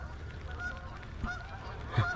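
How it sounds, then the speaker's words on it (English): Geese honking near a dock on a rainy, dim day, with several loud calls scattered across the moment and one sharper honk near the end over steady rain and background noise. "Some noisy little geese."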